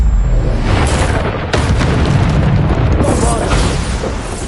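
Loud, rumbling Bombarda explosions go off during Hogwarts Legacy spell combat, with a sharp crack partway through and a dense, roaring wash of blasts that barely lets up.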